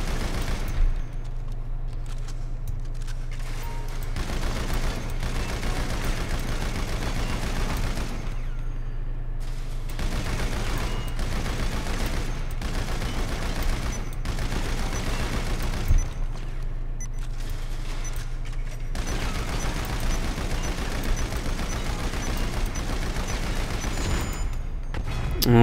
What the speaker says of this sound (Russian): Нужно в разные цели мишени стрелять.